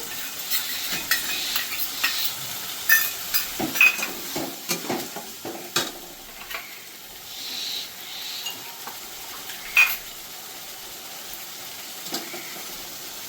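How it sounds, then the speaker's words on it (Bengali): Red chilli powder, turmeric and other spices being sautéed in a pan for a crab curry, with a constant sizzle broken by repeated scraping and clinking stirring strokes, close and fairly loud, no voices. "আর লাল লঙ্কার গুঁড়ো 1/2 চামচ। এটাও আমি এর সঙ্গে দিয়েই ভালো করে কষিয়ে নেব।"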